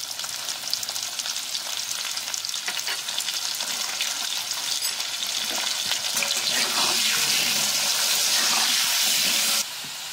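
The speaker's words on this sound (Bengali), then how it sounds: "আলুগুলো আমার ভাজা হয়ে গেছে, লাল লাল করে ভেজে নিয়েছি।" Potato pieces frying in oil for a home-cooked green jackfruit and prawn curry give a loud, steady, close sizzle that runs unbroken throughout, with no talking.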